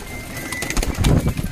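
A pigeon from a fancier's loft coos briefly while being caught by hand, a low throaty burble close up amid wing flutters and handling noise.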